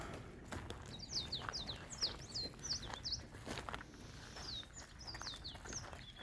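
Birds chirp in quick, repeated high calls spread across the clip, fairly faint, over soft rustling and a low background rumble.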